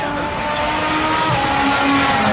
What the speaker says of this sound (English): We should hear a car come under the Dunlop Bridge, through the S's, and in the approach to Tetre Rouge any second.